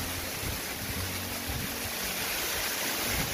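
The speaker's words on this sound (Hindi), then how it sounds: "पुकपुक वाटरफॉल" Pukpuk waterfall in Kurung Kumey, on the Koloriang to Damin road, giving a steady broadband rush of falling and flowing water, fairly faint and continuous with no voices.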